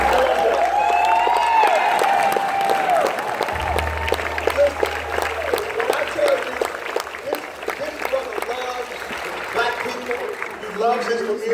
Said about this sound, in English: Y'all give my brother a round of applause.